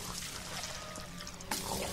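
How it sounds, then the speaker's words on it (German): Wet, liquid splattering and gushing sounds as creatures spurt blood from their bellies in the video game Silent Hill Downpour, a continuous sloshing stream with a brief sharper splash near the end, no speech over it. "Die spritzen einfach mit Blut aus ihrem Bäuchen"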